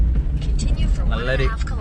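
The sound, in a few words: camper van driving, turning off toward a lake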